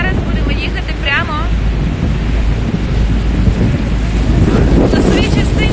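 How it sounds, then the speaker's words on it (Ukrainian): Strong wind roars steadily into the microphone at Niagara Falls, with a dense rushing noise throughout and the falls' water blending in beneath it, while a voice calls out faintly at moments. "Як дує."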